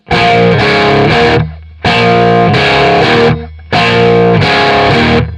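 Loud distorted electric guitar plays a song's rhythm stiffly on the beat, three chugging chord bursts separated by brief gaps.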